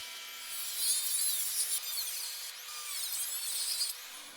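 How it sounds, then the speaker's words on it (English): A small cutting disc grinds to widen the gap in a rusted windscreen frame on a Mercedes W123 under restoration, a steady high whine with shifting pitch sweeps, held for several seconds at moderate distance. "I'm going to use a small cutting disc to just widen that gap so I can get the weld in there"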